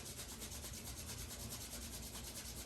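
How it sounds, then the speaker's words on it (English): Palms rub briskly together in a steady, continuous dry friction, close and fairly quiet, with no voices. "rub your hands together, create some heat"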